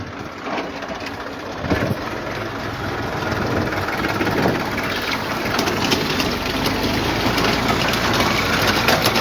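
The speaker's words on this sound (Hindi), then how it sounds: "तो ये अभी ट्रैक्टर चलेगा" Tractor engine running steadily during cumin sowing in a field, a continuous low rumble with mechanical clatter that grows slightly louder toward the end, no talk.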